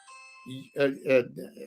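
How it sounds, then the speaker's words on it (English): A home doorbell chimes a series of ding-dong tones, clear and close in a quiet room, each ring fading before the next. "well, see, now that was my doorbell."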